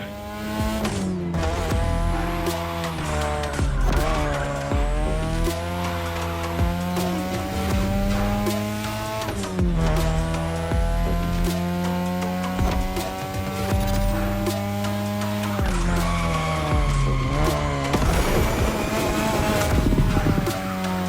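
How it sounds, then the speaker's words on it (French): A 2002 third-generation Mazda RX-7 with its rotary engine races in The Crew Motorfest video game, the engine revving high and rising through repeated gear shifts, with tire squeal, loud and continuous. "Ce soir, tu pilotes une Mazda RX-7 troisième génération de 2002."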